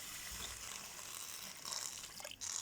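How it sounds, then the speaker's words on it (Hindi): Water being poured into lentils in a cooking pot, a steady splashing trickle at moderate level with a brief dip and a metallic clink near the end. "now I am adding water"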